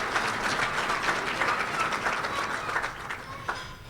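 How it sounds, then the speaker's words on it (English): Sustained audience applause at a New York State Baseball Hall of Fame induction ceremony, a steady, full wash of many hands clapping throughout that eases slightly toward the end. "we should really give him another round of applause"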